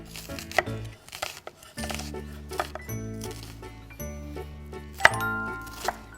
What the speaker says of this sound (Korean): 가르고 칼집만 넣어주세요.